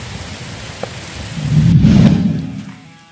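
Steady rain pours down outdoors on a fishing trip for toman snakehead, a broad hiss that swells louder in the middle and then eases, with a faint rumble underneath and no voices.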